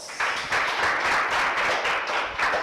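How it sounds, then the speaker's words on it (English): A studio audience at a maths quiz show claps steadily for a correct answer, a dense, even patter of hands sustained for under three seconds at close range. "Give her a lot of applause."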